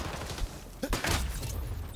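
Rapid bursts of AK-47 assault rifle fire from XDefiant gameplay, a cluster of sharp loud shots around the middle of a busy, noisy mix with thuds and background game clutter.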